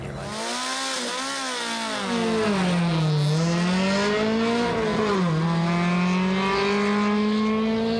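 A loud, continuous Lada rally car engine roars close by, its pitch climbing and dipping as it revs, with a rasping exhaust note throughout and no talking.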